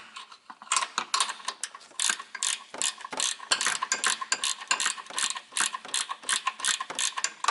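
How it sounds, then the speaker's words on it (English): A ratchet wrench clicks rapidly and closely in repeated bursts while loosening a nut on the rear strut of a 2004 Ford Explorer 4X4. "I gotta loosen that nut a little bit more"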